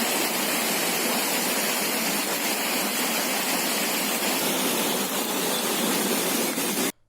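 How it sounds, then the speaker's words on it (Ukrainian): A clear stream rushes steadily through a street recently swept by muddy floodwater and stones, its close, continuous splashing roar running unbroken until it cuts off abruptly at the end. "Зараз тут знову чистий струмок."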